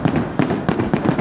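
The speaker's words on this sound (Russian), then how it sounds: "Красивый салют, да?" New Year fireworks salute in Irkutsk: a rapid series of booming bursts and crackling pops, roughly four strong blasts in quick succession, loud and close with rumbling echoes between them.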